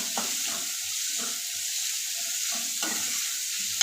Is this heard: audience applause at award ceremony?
no